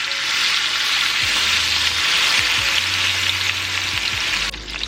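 Pork searing skin-side down in a hot pan gives a loud, steady, close sizzle throughout, with faint low scraping or stirring bumps underneath and no voices.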